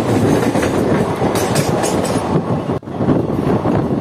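The Kaviguru Express, an Indian passenger train, runs on rails with a loud, continuous rumble and clatter of wheels over the track. It is heard close up from on board, and the roar dips briefly partway through.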